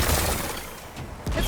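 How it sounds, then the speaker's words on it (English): Rocks being blasted apart with a weapon in the video game Horizon Forbidden West: a dense, rumbling wash of crumbling debris and blasts, with a sharp burst near the end. "Gotta blast away some rocks, so I can expose the power cell."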